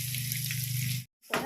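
Three large chopped onions fry in a pan for duck curry, giving a steady close sizzle that cuts out briefly and then resumes.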